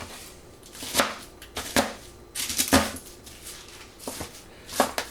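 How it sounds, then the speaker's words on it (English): A knife chops garlic on a cutting board in scattered, sharp knocks, a handful of close cuts at an uneven pace without speech. "give it a rough chop around"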